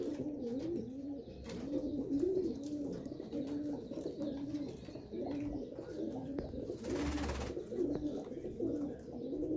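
Royal Teddy pigeons coo in a steady rolling series of low throaty calls, close and continuous, with a brief rustle partway through.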